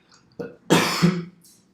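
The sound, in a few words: cough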